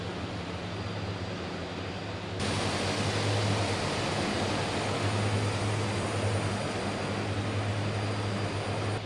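Propeller drone of an Aerosoft DHC-6 Twin Otter in Microsoft Flight Simulator, a steady loud broadband engine and airflow roar with a low hum, stepping up in level after about two seconds and holding constant to the end.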